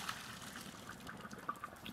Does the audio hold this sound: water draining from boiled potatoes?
yes